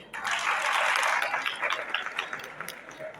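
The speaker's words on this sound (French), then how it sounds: "Des applaudissements pour lui." Applause breaks out for the student council president at a school excellence day, moderately loud and from a crowd, then thins out over a few seconds with a voice faintly beneath it.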